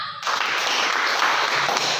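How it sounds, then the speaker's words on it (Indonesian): Classroom students clapping together after a lesson, a dense burst of applause starting abruptly and holding steady, with faint voices beneath. "tepuk tangan untuk semua"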